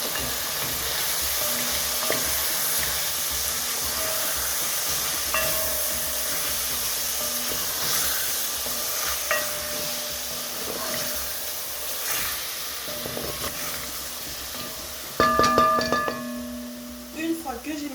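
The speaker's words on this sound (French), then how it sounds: "Je mélange." Food sizzles steadily in a hot pan while a utensil stirs and scrapes it during cooking of sautéed cabbage with beef, with a few louder clatters near the end.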